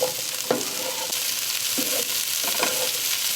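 Cauliflower sautés in a pan for an Indian vegan butter cauliflower curry, a constant close sizzle with a few sharp stirring scrapes and knocks breaking through the frying hiss.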